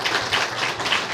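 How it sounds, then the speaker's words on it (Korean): A church congregation at an autumn revival service claps in welcome for a missionary, a dense, steady rush of many hands, fairly loud and continuous with no talk over it. "우리 처음 만나는 거니까 박수하면서 인사하시겠습니다"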